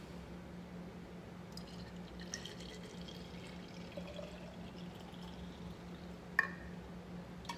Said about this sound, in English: So I'm gonna pour this without dropping it.